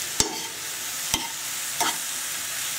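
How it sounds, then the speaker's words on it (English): Mushrooms frying over high heat in a hot pan, a soft steady sizzle broken by three sharp scraping strokes of a utensil stirring them, close and fairly quiet. "Now I'm keeping the heat up quite high so that any moisture that's going to come from these mushrooms will evaporate."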